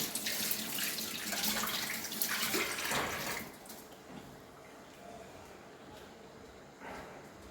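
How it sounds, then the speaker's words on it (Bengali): Raisins are rinsed under a running tap for a papaya cake: a loud, steady gush of water for about three and a half seconds, then quieter trickling with a brief splash near the end. "এই যে ভালো করে ধুয়ে নিলাম, এটার ভিতরে থাকবো কিশমিশ।"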